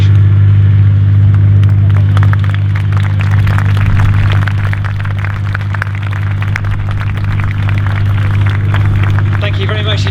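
Military vehicles circle the Kuwait Arena at Bovington Tank Museum's Tankfest 2022 in laps, producing a loud, steady engine rumble with a deep low drone that holds unbroken from start to finish.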